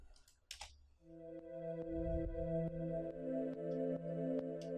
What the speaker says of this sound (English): The final pad sound in this project sounds like this